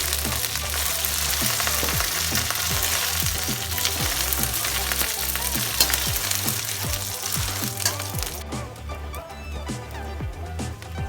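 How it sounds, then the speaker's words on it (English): Dry red chilies and curry leaves sauté in hot oil for a homemade dal and curry masala powder, a dense continuous sizzle with occasional stirring scrapes, close and fairly loud, fading slightly near the end. "Here we have to saute this mixture approximately for 10 minutes so that the dry chilies and curry leaves mix into the oil perfectly"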